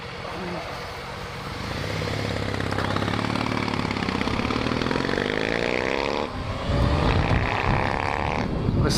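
A Triumph motorcycle with exhaust pipes on both sides drones steadily on the road, its engine note rising and holding loud, heard from a passing vehicle under occasional talk.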